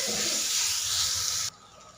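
Chillies, boiled in water and then sautéed in a pan with turmeric and Kashmiri chilli powder, give a loud, close, steady hiss that cuts off abruptly after about a second and a half, leaving only a faint residue.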